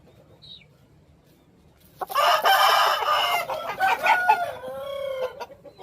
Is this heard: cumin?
no